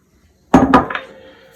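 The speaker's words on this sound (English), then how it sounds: "we're going to mix in the 2 cups of sugar" A spoon clanks twice against a bowl while two cups of sugar are mixed into oil for a vintage fresh apple cake, followed by a softer knock and a fading ring.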